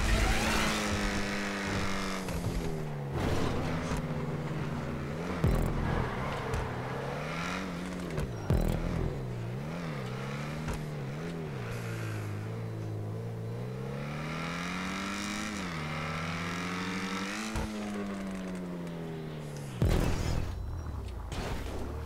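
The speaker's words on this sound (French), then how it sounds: "Elle accélère trop fort cette caisse." A car accelerating hard in the video game GTA 5, its engine revving loudly through rising and falling pitch sweeps with repeated gear shifts and brief drops, sustained and close for the whole stretch.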